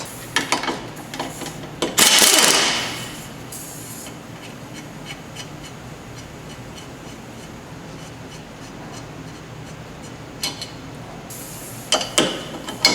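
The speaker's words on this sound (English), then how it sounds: "Using a 17, I'm going to remove the two nuts and the one bolt." A wrench works the two 17 mm nuts and one bolt off the lower control arm of a 2008 Honda CR-V. Bursts of metallic ratcheting and clinking come at the start and end, with a louder scraping rush early on and a steady workshop hum between.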